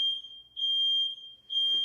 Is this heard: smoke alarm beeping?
yes